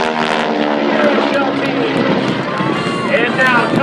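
Propeller aerobatic planes at an air show, Wings over Northern Michigan, fly a double cross maneuver overhead, a steady loud engine drone with shifting pitch under a commentator's voice over the PA.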